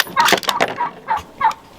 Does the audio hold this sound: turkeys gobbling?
yes